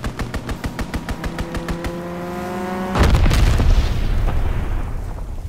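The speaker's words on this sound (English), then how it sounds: "Dropping Azon bomb." An Azon bomb goes off in an Xbox One war game: a rapid, pulsing engine drone runs for about three seconds, then a sudden loud boom cuts in and rolls off into a long, fading rumble.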